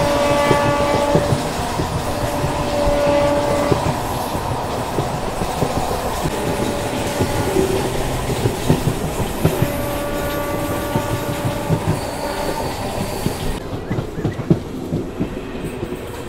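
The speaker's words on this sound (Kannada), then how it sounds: "ನಮ್ಮ ಟ್ರೈನ್ ಸದ್ಯಕ್ಕೆ ಬೆಟ್ಟ ಹಲಸೂರು ರೈಲ್ವೆ ಸ್ಟೇಷನ್ ತಲುಪಿದೆ." Bengaluru to Kolar MEMU train running steadily along the line, a continuous loud rumble of wheels and car noise with faint clickety-clack and tonal hums, no talk.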